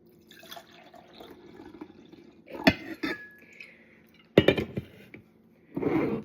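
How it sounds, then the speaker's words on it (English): Freshly brewed coffee for iced coffee is poured into a cup, giving trickling and dripping liquid sounds with a few sharper clinks and splashes, close and moderately loud, with no voices. "now I'm going to pour it into my cup"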